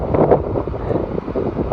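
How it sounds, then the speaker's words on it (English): Gusty wind on the Pacific Crest Trail buffets the microphone with a dull, rumbling roar that rises and falls in uneven bursts. "Although it is pretty windy, if you can hear me through it all."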